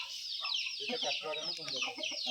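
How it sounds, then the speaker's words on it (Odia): Chickens on a poultry farm in a village in Keonjhar, Odisha, clucking and squawking busily at close range, a continuous flock chatter with overlapping calls. "ପପୁ ଭାଇ ବର୍ତ୍ତମାନ କୁକୁଡ଼ା ଚାଷ କରୁଛନ୍ତି"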